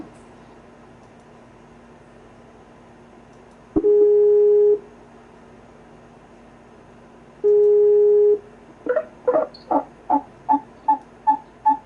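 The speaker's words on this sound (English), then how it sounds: "I'm going to hang up and dial you right back" Telephone line tones on a conference call being hung up and redialed: a click, two sustained steady beeps, then a quick run of short repeating dial-tone pulses, clear and alone with no talking.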